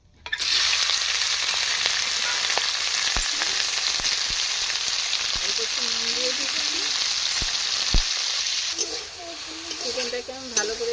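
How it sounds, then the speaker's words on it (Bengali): Chopped chicken sizzles steadily in hot white oil for a soup, a loud continuous frying hiss with scattered sharp stirring clicks and a few brief spoken words partway through. "কুচিয়ে রাখা চিকেনটা দিয়ে দিচ্ছি।"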